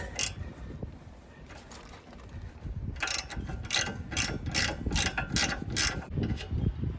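A ratchet works loose the nut on a Honda Element front sway bar link, giving close, crisp bursts of clicking pawl strokes after a quieter start, with no voices.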